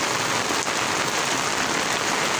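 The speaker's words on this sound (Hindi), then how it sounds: "कितनी तेज़ बारिश है" Heavy rain pours steadily onto garden plants, a dense, even hiss of drops that stays loud and constant throughout with no voices.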